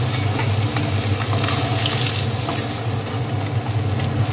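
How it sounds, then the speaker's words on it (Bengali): Boal fish frying in hot oil as the pieces are turned, a loud dense continuous sizzle and crackle with a low bubbling rumble, constant throughout. "মাছগুলো উল্টে পাল্টে ভেজে নিতে হবে।"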